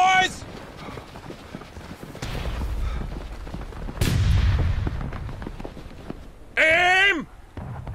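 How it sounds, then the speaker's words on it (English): Musket volleys boom in the War of Rights American Civil War game, with heavy, rumbling blasts and a sharp, tonal burst near the end. Game voices shout around the shots. "Firing by volley."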